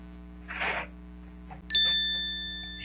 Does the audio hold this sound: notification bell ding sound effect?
yes